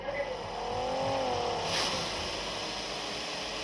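A car in the battle royale mobile game BGMI drives along with a steady engine drone and a brief rising rev, while a player talks over it.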